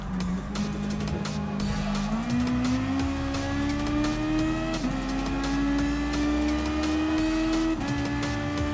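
The Toyota FT-1 race car in Gran Turismo Sport howls under acceleration, a loud, continuous engine tone climbing steadily through gear changes with brief dips between shifts.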